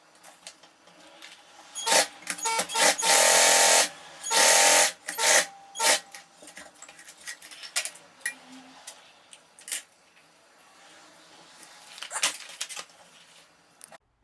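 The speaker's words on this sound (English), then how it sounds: "so that I can start sewing everything together" Sewing machine stitching leather floor cushion pieces and trim together, loud bursts of mechanical running of a second or two each, then quieter intermittent clicks and handling of the material, with no talking.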